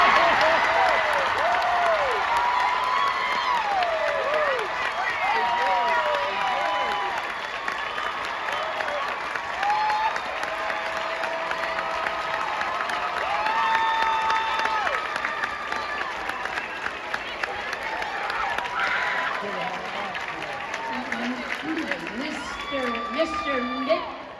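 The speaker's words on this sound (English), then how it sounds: "let's have a nice round of applause for this year's state runner-up, Avon Attraction" A large show choir finals audience applauds and cheers steadily for the Avon Attraction state runner-up choir, with whoops and children's shouts rising and falling through the long ovation.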